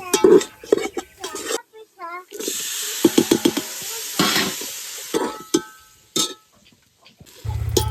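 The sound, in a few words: biryani masala frying and being stirred in a pan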